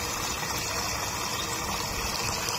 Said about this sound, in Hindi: अब इसमें पानी भर के साइड पर रख देंगे